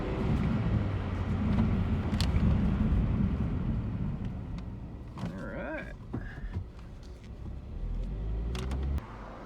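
A Toyota MR2 with freshly swapped rear brakes, driven on the road: a loud engine rumble and road roar that gradually eases, with a brief squeal partway through and a low drone near the end.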